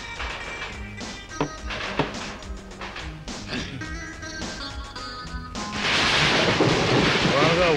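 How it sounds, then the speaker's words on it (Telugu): Heavy rain pours down with thunder, with deep rumbles and cracks rolling through the first part before the downpour swells into a loud, dense roar near the end. "బాగా వర్షం వస్తుంది"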